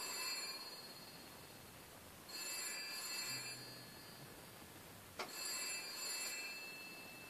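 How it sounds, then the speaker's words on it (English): A phone rings in bursts of trilling electronic tones, one ring after a pause and another starting later, quiet and somewhat in the background of a room. "excuse my phone, I can't answer it now."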